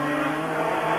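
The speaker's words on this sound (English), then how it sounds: "Arnoux has gone past with a badly misfiring Ferrari engine" A Formula 1 car with a badly misfiring Ferrari engine runs through the rain at the 1984 Monaco Grand Prix, a brief, steady, loud engine drone with a rough hiss of spray and no voices.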